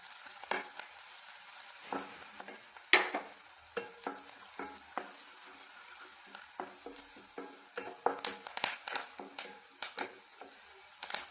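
Ginger frying in a pan while being stirred, a soft oil sizzle under frequent quick scrapes and taps of the spoon, irregular and close, with no talking.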